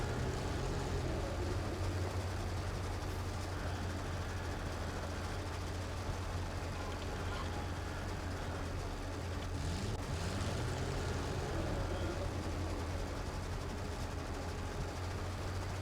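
A Maus tank engine running in the video game Gates of Hell Ostfront, a deep, steady rumbling drone that stays loud and continuous throughout, with no speech.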